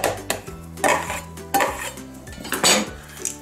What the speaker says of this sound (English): add your garlic in there. Okay, use your knife, scrape it off.